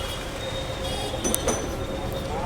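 Inside a Kolkata tram car on a rainy day, a steady low rumble of running wheels on track with faint metallic clinks and a brief rattle partway through.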